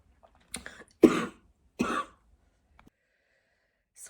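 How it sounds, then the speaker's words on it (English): A woman coughs close to the microphone, with a small throat sound, then two harsh coughs, and brief quiet clicks between them. "Sorry about that coughing."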